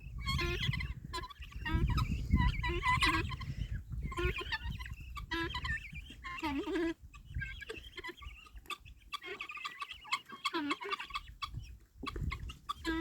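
Backyard chickens and guinea fowl near a coop call continuously at close range, with clucks, gobbling squawks and rapid chattering bursts rising and falling over several seconds and no talk.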